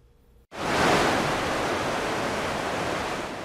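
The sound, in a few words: rushing Kettle River and waterfall in Banning State Park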